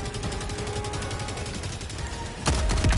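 Video game gunfire from a horror shooter, a steady loud stream of rapid shots throughout, growing heavier with a denser burst near the end.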